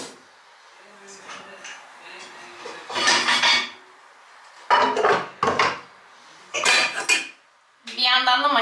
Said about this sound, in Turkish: Bir yandan da makineyi boşaltıyorum.